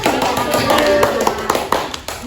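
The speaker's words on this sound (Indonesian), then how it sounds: "beri tepuk tangan" A small audience at a school positive-culture dissemination session claps after an answer, scattered uneven hand claps with sharp individual strikes over room murmur, thinning out toward the end.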